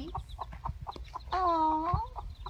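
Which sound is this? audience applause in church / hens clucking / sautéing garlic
hens clucking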